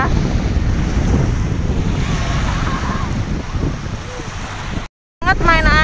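Strong wind buffets the microphone at Changi Beach while ocean waves roll and crash continuously, a loud steady roar that briefly cuts out near the end.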